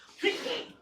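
A single short sneeze, close and moderately loud, lasting under a second and standing alone against a quiet room.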